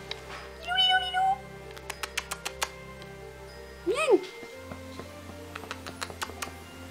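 A pet cat meows a few times, a drawn-out cry near the start and another rising meow midway, with soft keyboard-like taps and a person's voice in a quiet room.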